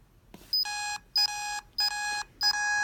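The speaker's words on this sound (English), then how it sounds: "So you can see the alarm going off" An electronic alarm triggered on a student-built device with an LCD display sounds in four repeated bursts of loud, high beeping, each about half a second long with short gaps between.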